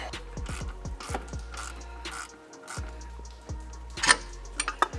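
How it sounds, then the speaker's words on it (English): Mechanic working a breaker bar on a 10 mm bolt of car rear suspension while fitting upper control arms on an FRS/BRZ/GR86, giving a run of sharp ratcheting clicks and clunks, close up and fairly quiet, with a few louder metallic knocks near the end. "Go ahead and use a breaker bar to try to get this a little bit loose."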